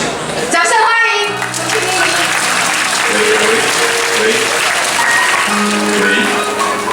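A crowd applauds at a Taiwanese song concert, a dense roar of clapping that starts under an announcer's voice and continues alongside music notes and further talk over a sound system.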